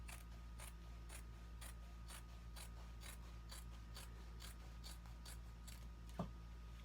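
Scissors cut through a yard of fabric in a steady series of crisp snips about every third of a second, close and fairly quiet over a low background hum.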